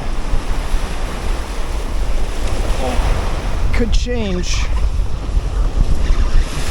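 Ocean waves pound a dock over shallow water, about two feet deep, on a striped bass fishing outing: a steady, loud roar of surf with gusty wind noise throughout, and someone speaks briefly partway through.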